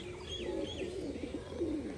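A male and female pair of Rajshahi pigeons coo softly at close range, low rolling calls repeating in a quick burbling rhythm over faint background hiss.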